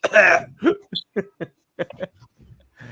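A few harsh coughs and throat-clearing sounds, close and fairly loud, broken into short bursts with brief pauses.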